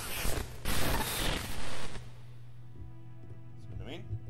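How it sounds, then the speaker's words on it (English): A broad, loud blast from an EMP explosion in the Minecraft I.C.B.M. mod, with heavy rumbling noise for about two seconds, then a low steady hum with faint electronic chirps and tones trailing off. "EMP explosion. This thing only tampers with electronics."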